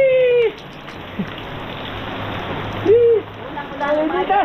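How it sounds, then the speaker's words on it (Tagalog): Rain pours steadily as a broadband hiss, with voices calling out and exclaiming over it near the start, middle and end. "Sarap paligo sa ulan."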